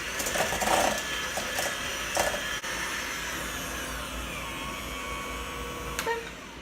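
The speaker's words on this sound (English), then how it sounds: "now I'm going to mix this" A mixer whirs steadily through a pumpkin spice fat bomb mixture, a continuous close motor drone with a few clunks and knocks against the bowl near the start, no talk.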